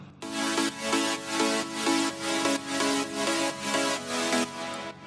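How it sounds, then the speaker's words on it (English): Layered Sylenth1 synth chords for an emotional progressive house track pulse in a steady repeating rhythm, full and sustained with regular swells, with no voices. "So there are some silent one layers which sound like this,"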